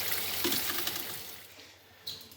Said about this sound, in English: Now it's flowing like it should, draining just as fast as that water's going in.